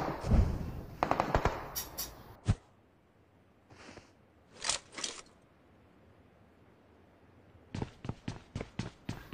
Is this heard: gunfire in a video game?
yes